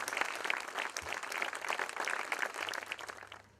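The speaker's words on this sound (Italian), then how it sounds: "possiamo subito ringraziare con un applauso chi ci ha fatto venire qua" An audience in a municipal gymnasium gives a brief round of applause, a moderately distant scatter of claps that swells and then thins out toward the end.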